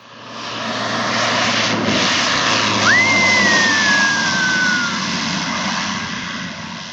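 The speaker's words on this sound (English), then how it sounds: "This Cessna 208 made a rough landing." Cessna 208 making a rough landing, a steady loud propeller-engine roar throughout with a thin whistling tone rising briefly midway, heard from outside without talk.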